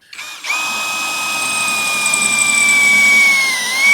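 A power drill spins a hole saw in a workshop, starting abruptly and then holding a steady high whine that strains slightly as it cuts, loud and close with no talk.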